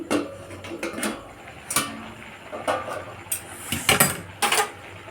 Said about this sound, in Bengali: এবার আমি ঢাকাটা খুলছি